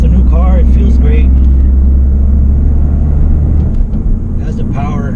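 Toyota GR Corolla engine droning loudly and steadily while driving on the road, a strong low rumble that stays even throughout, with someone talking over it.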